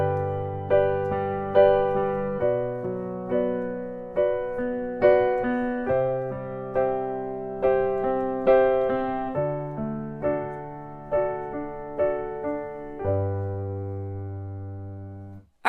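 Piano playing a flowing left-hand accompaniment pattern, a steady rhythm of repeated broken-chord notes under sustained melody tones, clear and close, with no talking.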